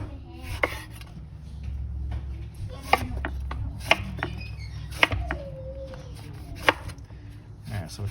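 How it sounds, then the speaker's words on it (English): A knife chops vegetables on a cutting board while a roast rosemary and lemon chicken is prepared, giving sharp, irregular close taps over a low kitchen hum. "So we'll chop these all down."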